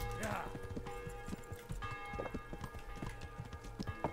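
Horse hooves clip-clop at a steady walking pace in the medieval video game Kingdom Come: Deliverance, a rhythmic series of moderately close hoofbeats over a low background hum and game ambience.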